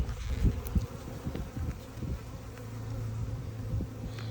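Swarm of honey bees droning steadily around an open hive while nucs are moved into new boxes, a continuous close hum with individual bees zipping past the ear.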